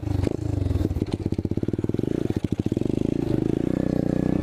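An Apollo 125cc dirt bike engine revs hard during a wheelie attempt, with loud, close, rapid throttle pulses that rise and fall in a choppy rhythm.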